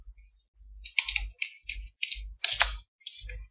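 Quiet typing on a computer keyboard, a string of soft separate key clicks in an irregular rhythm, close by with nothing else around.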